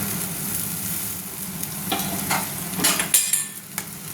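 Onions that are already browned sizzle in a pan as ground ginger-garlic paste goes in for a fish curry with sliced potatoes, a steady fry broken by a few stirring scrapes and clinks near the end.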